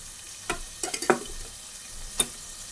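Onions with a pinch of salt frying in a pan, heard as a few soft, scattered sizzles and light clicks of stirring, fairly faint and without talk.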